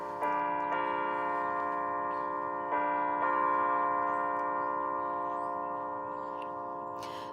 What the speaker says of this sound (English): Church bells. I love church bells.